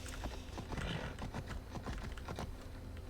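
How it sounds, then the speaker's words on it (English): Horse hooves clip-clop steadily in Assassin's Creed Odyssey, a quick rhythmic trot of close, even hoof strikes running throughout with no speech over them. "You are not treating that horse well."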